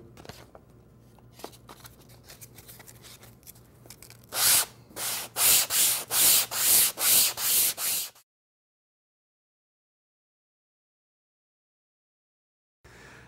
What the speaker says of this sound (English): and I can start sanding.